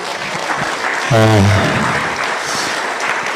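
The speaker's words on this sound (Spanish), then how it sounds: "Le recibimos con aplausos." A church congregation in Santa Cruz claps to welcome a visiting pastor, producing steady applause with a brief loud tonal burst partway through.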